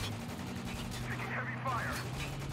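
Gunfire crackles in the war shooter Spec Ops: The Line, with a dense stream of rapid shots and bursts over a rumbling low backdrop, steady and moderately loud with no voices.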